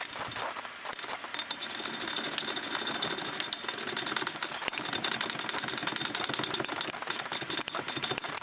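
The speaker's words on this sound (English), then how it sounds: "I'll just use a ratchet to run those down until they're seated" A hand ratchet runs strut bolts down on a 2015 Nissan Altima during front strut replacement, giving a fast continuous clicking that goes on throughout over faint mechanical noise, with no talking.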